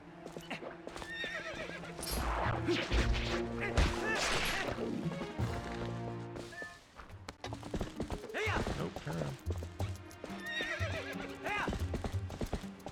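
A horse whinnies among clip-clopping hooves, thuds and clatter in The Legend of Zelda: Twilight Princess on GameCube, with game sound effects that keep up busy and loud throughout.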